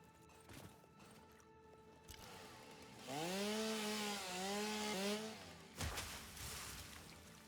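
A chainsaw cuts down a tree in the game Satisfactory, revving up into a loud, steady whine with rising and falling pitch for a couple of seconds, then a thud as the cut ends.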